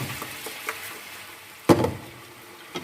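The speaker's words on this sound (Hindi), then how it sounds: "चिकन को हम फ्राई कर लेते हैं ऑयल में" Chicken frying in oil in a pan gives a soft, steady sizzle, broken by occasional stirring scrapes and one louder clatter of a utensil against the pot.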